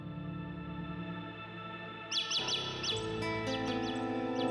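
Rapid bird chirps burst in halfway through over a steady drone of music, a quick run of bright tweets repeating close and clear with an echoing, processed quality.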